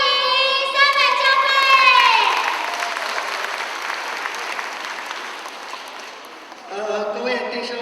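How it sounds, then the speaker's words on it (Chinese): A crowd applauds at a Christmas thanksgiving church service to welcome a church group, steady clapping mixed with shouting children's voices and a few speaking voices. "掌声欢迎三美教"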